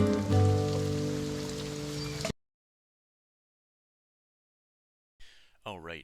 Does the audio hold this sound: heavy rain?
yes